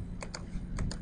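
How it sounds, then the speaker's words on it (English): A handful of crisp computer keyboard key presses, the minus key tapped repeatedly, coming as four quick close clicks in two pairs with no one talking. "I'm going to hit minus on the keyboard to shrink this art size"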